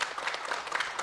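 Brief burst of audience clapping for players at an event, a quick scattered patter of hands lasting about a second, fairly close and without speech.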